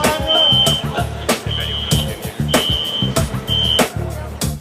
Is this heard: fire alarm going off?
yes